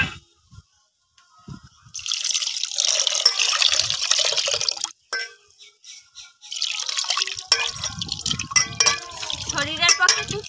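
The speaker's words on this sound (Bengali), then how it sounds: "এবার আমি জলে ভিজিয়ে রাখবো" Water pours into a bowl to soak scraped ginger for a mango ginger drink, splashing and trickling in two close bursts, with someone talking over and between the pours.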